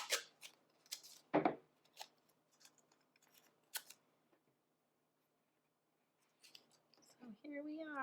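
Scissors snipping paper for a tessellation art project, a few short crisp cuts in quick succession near the start, then quiet handling sounds and a brief rustle toward the end.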